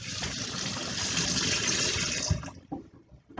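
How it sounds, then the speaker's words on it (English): Running tap water gushes steadily over hands at a sink during a physical exam, fairly loud and continuous, then cuts off as the faucet is shut, leaving brief handling noises. "I'm going to start by washing my hands first."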